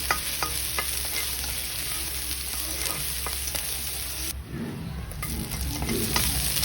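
Garlic frying in oil in a pan, a steady close sizzle with scattered scraping strokes of a utensil stirring it, continuous throughout and briefly quieter midway.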